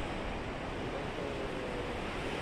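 Ocean waves at the sea wash as a constant, broad, even roar of surf, with wind noise mixed in and no distinct breaks.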